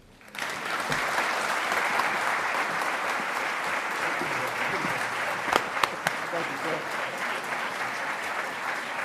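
Audience applause at a 2019 Pentagon disability awards ceremony welcoming the keynote speaker: a full room breaks into steady, sustained clapping almost at once and keeps it up evenly to the end, with a few sharper claps standing out.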